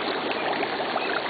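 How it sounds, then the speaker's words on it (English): Gas seeping up through the water of Divided Creek, bubbling steadily: a soft, continuous fizzing and gurgling trickle, close and fairly quiet, with no voices. "Because it's really bubbling out here, just like Steve said."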